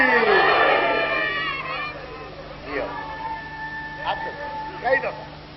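A crowd at a Shia religious gathering in praise of Imam Ali loudly chants a devotional slogan in unison, with a strong swell of many voices at first and then fading into scattered shouts.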